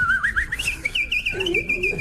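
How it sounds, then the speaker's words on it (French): A brief, high warbling whistle from a nightingale rises and falls in quick trills, fairly close and clear against a quiet background. "Le rossignol siffle toujours en travaillant."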